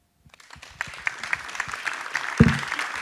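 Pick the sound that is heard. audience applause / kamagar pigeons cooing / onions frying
audience applause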